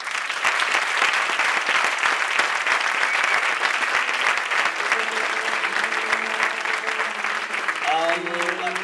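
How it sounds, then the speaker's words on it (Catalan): An audience at a school Pastorets play gives the students a dense, sustained round of applause, loud and continuous, with music or voices emerging underneath toward the end. "Un aplaudiment per tot l'alumnat."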